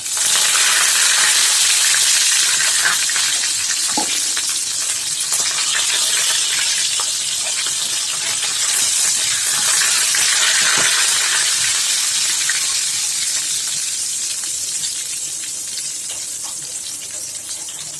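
Asafoetida and curry leaves sizzle in hot oil with a loud, continuous crackling hiss that slowly eases over the stretch, alone without talk.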